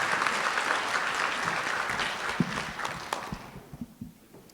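A conference audience applauds steadily, a dense wash of clapping that thins out into a few scattered last claps before fading away.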